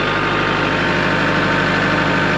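A Kubota tractor engine runs steadily at 1,500 RPM, a loud, even, close drone with no talk.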